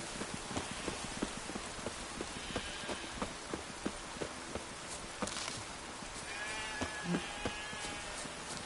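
Steady patter of rain across a surface in The Witcher 3: Wild Hunt, with scattered close clicks and taps, and a few faint tones in the background.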